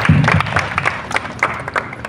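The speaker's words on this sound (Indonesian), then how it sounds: "tepuk tangan buat anak-anak kita." Audience at a mosque groundbreaking ceremony applauding the children, a short burst of brisk, close clapping with some voices mixed in at the start.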